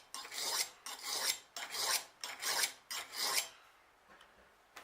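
Steel knife blade drawn across a sharpening stone held secure on a wooden base, five rhythmic rasping strokes in a row, close and clear, followed by a quieter scrape.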